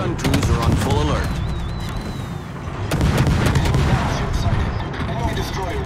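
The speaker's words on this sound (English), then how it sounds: "Anti-aircraft gun crews are on full alert." Anti-aircraft guns fire in a naval battle video game with the French ship Marceau, a dense, continuous rattle of rapid shots and booms throughout, loud and close.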